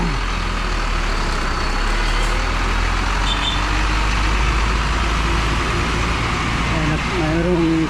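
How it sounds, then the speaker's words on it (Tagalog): A garbage truck collecting trash rumbles nearby with a steady low engine drone, and at the end a brief high tonal warning sound rises above the idling. "Mayroong garbage truck nagkuha ng mga basura."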